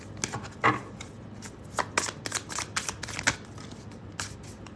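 A deck of tarot cards shuffled by hand, with irregular crisp papery flicks and taps close by, alone with no voices.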